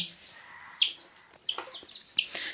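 Newly hatched chicks cheep in short, high-pitched bursts, several chirps spaced unevenly, close by and fairly quiet.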